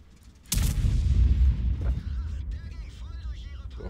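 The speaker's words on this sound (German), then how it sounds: "Auf den E50 geschossen." A tank cannon fires at an E50 tank in a video game, a single loud, deep boom that rolls out over about three seconds while game sounds and faint voices continue underneath.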